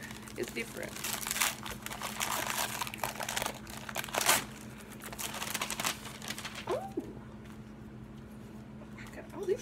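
Gift wrapping paper crackles and crinkles as Christmas presents are torn open, loud and close in repeated bursts, with people talking over it before it fades near the end.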